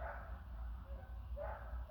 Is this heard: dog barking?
yes